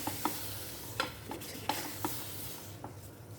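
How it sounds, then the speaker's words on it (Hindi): A large oiled pan being wiped while it heats gives faint, scattered scraping taps over a soft sizzle. The sounds come close together and quietly, with no voices. "इसमें हम तेल थोड़ा सा डाल के फिर इसको पोंछ देंगे।"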